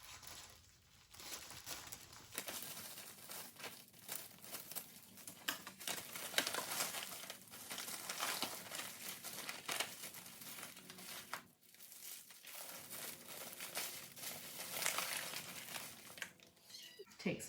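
A plastic bag handled and cut in half, with continuous crinkling and rustling plastic close by, rising and falling in bursts over a faint background.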